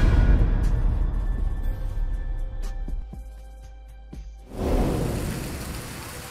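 Heavy rain pours steadily over Bogor as a dense, close wash of noise, with a brief dip near the end before the downpour swells back up, no voices present.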